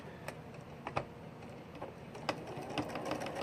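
A domestic sewing machine stitches small fabric pieces in short, quiet bursts, the needle ticking and clattering softly at close range with irregular pauses between runs.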